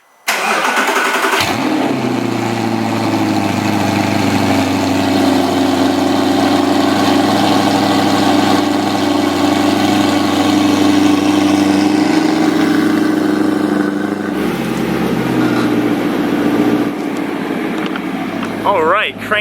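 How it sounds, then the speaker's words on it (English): An Audi R8 V8 engine with an Armytrix exhaust cranks and catches after sitting a week, then roars loud and steady at a high fast idle before the pitch drops and settles into a lower, calmer idle. "let's get a 1-week cold start on the Armytrix Audi R8 with the V8 engine"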